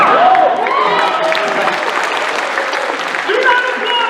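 Convention audience at an anime convention Q&A in Finland applauding, a steady wash of clapping with some crowd voices and talk mixed in, fairly loud and close.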